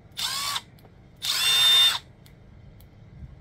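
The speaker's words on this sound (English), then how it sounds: "So the cool thing about the Milwaukee M12 is it has this number one speed. You can hear it." A Milwaukee M12 driver running at its slowest first speed gives two short bursts of steady whirring, close by, with a quiet pause between and no talking.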